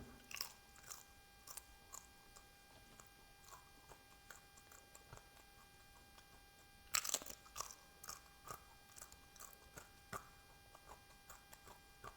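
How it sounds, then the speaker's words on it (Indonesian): Crunchy cassava chips are bitten and chewed close up during a mukbang, with sharp irregular crunches, one loud bite in the middle, over a faint steady electrical hum. "Keripik singkongnya renyah banget."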